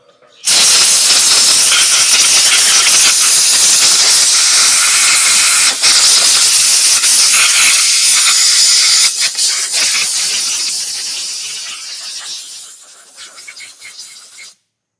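A steam boiler in a shed blowing off pressure: a loud, continuous roaring hiss that starts abruptly and holds steady for several seconds, then gradually weakens and sputters out into silence.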